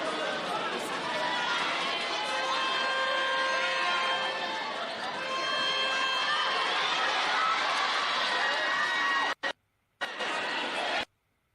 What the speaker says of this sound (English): Lots of activity in the crowd, as you can hear in the background.